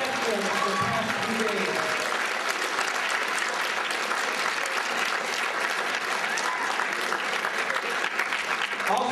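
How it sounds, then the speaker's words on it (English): Sustained audience applause fills the whole stretch, dense and steady from start to finish, with a few faint voices mixed into the clapping crowd. "Please give him a great round of applause"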